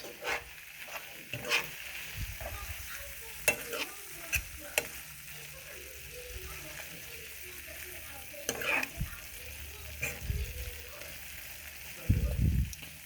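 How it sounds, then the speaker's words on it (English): Seafood stirred around in a hot pan for a creamy alfredo pasta, a steady close sizzle broken by repeated scraping spoon strokes, with a heavier low thud near the end and no clear speech. "So I'm just gonna stir this all around."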